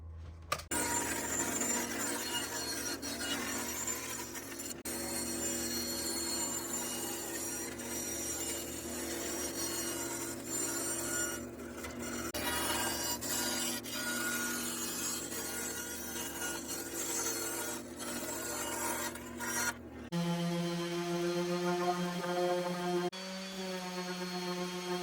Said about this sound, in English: This here's probably my favorite bit for routing.